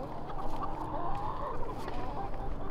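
Backyard chickens in a home coop cluck and murmur steadily throughout, a dense flock chatter at moderate loudness with no talk over it.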